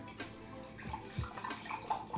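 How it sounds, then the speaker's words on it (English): Vegetable broth poured into a cooking pot, a soft continuous splashing stream with a few louder gurgles near the end, close and fairly quiet. "So I'm going to pour some of this vegetable broth in here."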